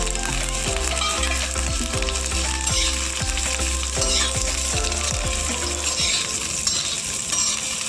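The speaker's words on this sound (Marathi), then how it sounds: "जे आपण वल्लं खोबरं घेतलंय थोडंसं तेलात परतून घ्यायचं" Fresh coconut fries in oil in a pan over a wood fire, a loud continuous sizzle heard up close with steady scraping stir strokes in a regular rhythm and no talking.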